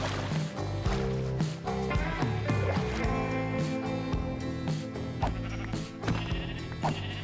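Sheep bleat in a Minecraft Create Mod survival world, short repeated cries over a busy, continuous bed of game music and effects, fairly loud and constant throughout.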